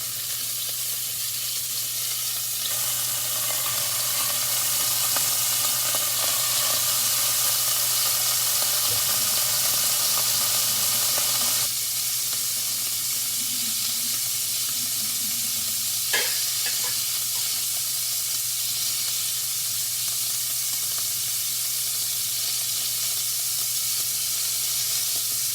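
Short ribs searing in a hot pan give off a continuous bright sizzle and hiss that holds steady throughout, with occasional light stirring or scraping.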